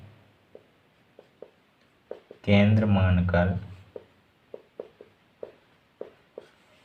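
A pencil scratches on paper during a Class 9 geometry construction of arcs and points, making short, faint, evenly spaced strokes close by, interrupted once by a brief burst of speech.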